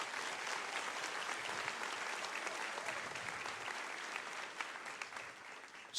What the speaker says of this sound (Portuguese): Se é para o Senhor, pode aplaudir.